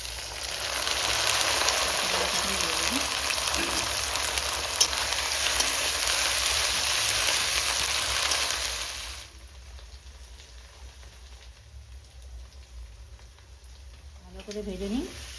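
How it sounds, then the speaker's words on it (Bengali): Onion frying with ginger-garlic paste in a home kitchen pan gives a steady, loud sizzle for about nine seconds, then drops to a faint hiss with a brief stir near the end. "ভালো করে ভেজে নিই।"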